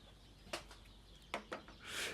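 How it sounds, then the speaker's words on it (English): Sparrows chirp from a bush outside a garage in England, a few short, sharp calls spaced across the moment, faint and somewhat distant over a quiet background, with a brief rustle or flutter at the end. "apologies for the soundtrack of birds in the background"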